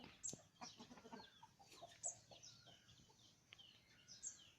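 Burmese fighting chickens cluck and call softly in the distance in a backyard, with occasional sharper squawks over a quiet background.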